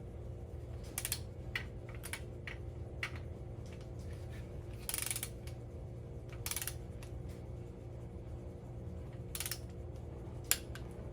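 Torque wrench tightening connecting rod bolts on a 383 engine, with a string of sharp ratcheting clicks and a few louder bursts over a steady low shop hum, close up and with no talk.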